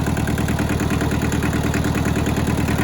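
A rusty Hinomoto tractor engine idles steadily, a loud, close, rough low thrum with a fast regular pulse and mechanical rattle, alone without voices.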